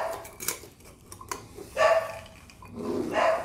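A dog barks in the background at a delivery man, short sharp barks recurring in scattered bursts, moderately loud and somewhat distant inside a home kitchen.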